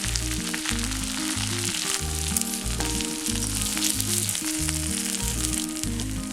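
Chicken pieces deep frying in hot oil for a Kerala chicken fry, a dense, continuous crackling sizzle, close and steady throughout with no voices.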